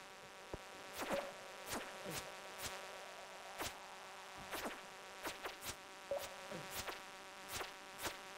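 Bees attack in the mine of the video game Stardew Valley, buzzing flights and sharp zipping passes repeating irregularly over a quiet droning game background.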